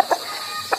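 Two short, sharp clucks from a six-month-old rooster, spaced apart, close by with quiet in between.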